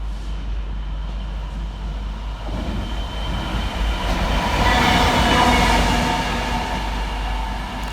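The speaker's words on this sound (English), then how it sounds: "Next passing through the station 7 minutes late is 66617, working OK50 from Towton North Yard to Crewe Basford Hall." Class 66 freight locomotive 66617 runs through Stafford station, a deep rumble and rolling wagon noise building to a loud peak midway and then holding steady, with no voices.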